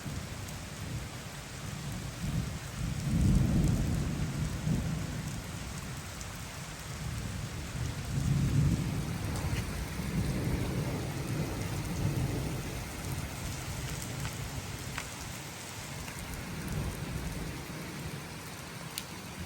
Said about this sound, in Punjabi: ਹੁਣ ਆ ਪਹਿਲਾ ਮੀਂਹ ਵਹਾ ਪਿਆ ਜਿਹੜਾ ਹਵਾ ਦੇ ਬਗੈਰ ਪਿਆ